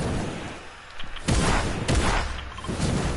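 Heavy shotgun blasts in a video game boom out in a few loud, close bursts, separated by short gaps with quieter background noise between them.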